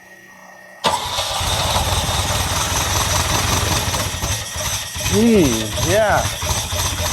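A 1979 Ferrari 308 engine catches and settles into a steady, fast idle on full choke, loud and close, with brief revs near the end and people talking briefly over it.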